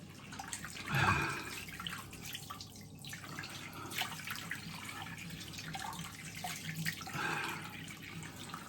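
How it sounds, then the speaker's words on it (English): Water running and splashing in a bathroom sink after a wet shave, with a louder gush near the start and again toward the end, steady trickling between. "we'll unplug the sink and we'll have a rinse"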